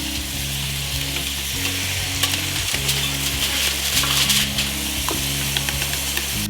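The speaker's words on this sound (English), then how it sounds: "Just put them down in the oil, and then we'll season with salt and pepper." Burger patties sizzle and fry steadily in oil in a pan, a loud continuous crackle with a low hum of a kitchen appliance underneath and occasional small clicks.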